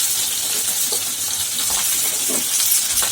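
Thinly sliced ivy gourd sizzles steadily in a hot pan, with a spatula scraping and stirring at intervals through a constant, bright frying hiss.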